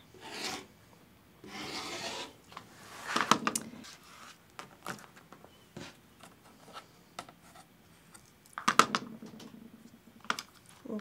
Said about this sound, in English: So we're going to cut 2½-inch strips.